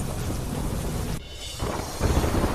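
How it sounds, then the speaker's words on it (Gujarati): Heavy monsoon downpour with thunder in Didwana district, Rajasthan: a dense, steady roar of rain, with a louder rumbling swell near the end. "રાજસ્થાનના ડીડવાના જિલ્લામાં પડ્યો મુશળધાર વરસાદ"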